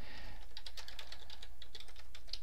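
Fast, close clicking of keys on a computer keyboard while entering VBA code, a steady uneven patter of keystrokes with no talking.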